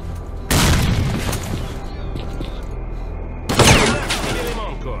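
In S.T.A.L.K.E.R. Clear Sky, two heavy booming blasts from a grenade explosion and gunfire land a few seconds apart over a steady rumbling background, loud and near, with scattered crackle between them.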